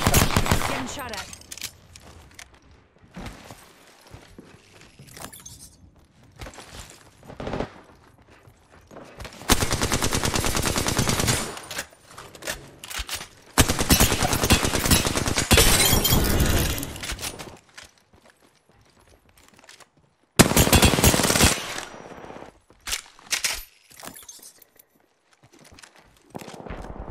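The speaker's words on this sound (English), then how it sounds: "Getting shot at." Gunfire in the battle-royale shooter Apex Legends comes in several loud, dense automatic bursts with quieter gaps between them, with faint player speech in the lulls.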